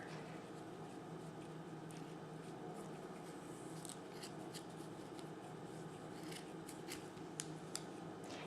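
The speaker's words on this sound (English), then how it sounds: "I then took my scissors and trimmed down the ribbon just a little bit more" Quiet, close snips of scissors trimming ribbon, a scattering of small crisp clicks over a soft steady background hiss.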